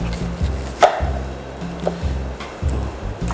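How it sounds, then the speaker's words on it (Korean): A knife cuts through a pear on a board, giving repeated soft chopping strokes in an irregular rhythm, close and clear with no talking. "배를 조금만 썰겠습니다"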